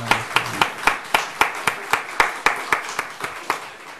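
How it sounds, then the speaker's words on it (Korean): A congregation claps together in a church service of blessing, a steady, rhythmic unison beat of about four claps per second, close and crisp, with no talk over it. "축복의 박수 하겠습니다"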